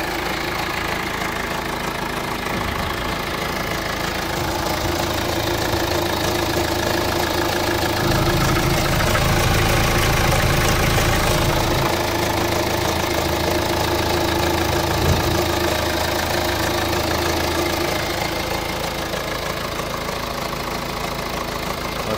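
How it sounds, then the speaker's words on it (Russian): A 2010 Hyundai Tucson with a 2-litre diesel engine idles steadily at close range, a continuous low rumble with fine diesel knocking and no talk. "Мотор работает хорошо."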